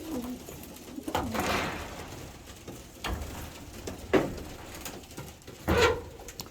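Pigeons cooing in a loft where young birds are being flown, with soft repeated coos and rustling arriving in a few separate bursts at moderate distance.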